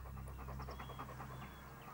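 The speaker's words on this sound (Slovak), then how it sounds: "Pes pracuje tak, že pri vydychovaní vysiela k zemi vlhký vzduch, ktorý do seba v zápätí vdychuje." Explosives-search dog sniffing and panting close by, a rapid continuous rhythm of short breaths over about two seconds, with a low steady hum underneath.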